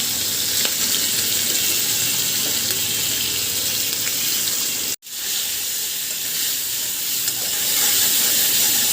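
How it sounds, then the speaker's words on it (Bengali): Small shrimp fry in hot oil in a pan, giving a loud, continuous close-up sizzle and hiss that drops out for an instant midway, then carries on steadily with no talking. "প্রথমে আমি চিংড়ি মাছটা ভেজে নেব।"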